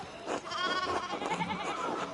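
A sheep in the video game Pentiment bleats in a loud, wavering, voice-like call lasting about two seconds, close and alone.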